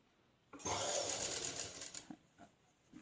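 A sewing machine stitches pleats into chudidar pants in a steady, close whir lasting about a second and a half before slowing, followed by a few faint clicks.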